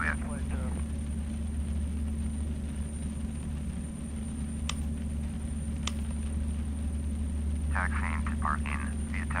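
Airliner taxiing to parking at Glasgow in Flight Simulator X, a steady low engine drone with a high whine running throughout, while a voice talks over it in short bursts at the start and end.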